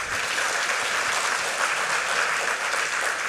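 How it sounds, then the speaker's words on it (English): Dense, steady applause from a conference audience after a keynote on agility and leadership, a continuous hiss of many hands clapping at constant loudness. "Let's give Peter a very big round of applause."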